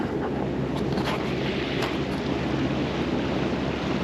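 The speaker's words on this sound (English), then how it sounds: "let me get away from the engine noise and into the wind noise" Wind buffets a microphone aboard a sailboat at sea, heading into about six knots of headwind, a steady broadband roar with water wash beneath, constant and close with no talking.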